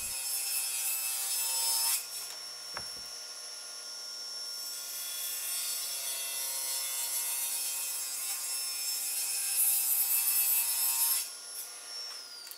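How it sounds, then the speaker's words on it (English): A power saw or trimmer cuts back walnut strips on an end grain wooden cutting board, giving a steady high whine that runs loud and continuous for about nine seconds, followed by a spin-down. "I'm gonna cut back the walnut strips a little bit"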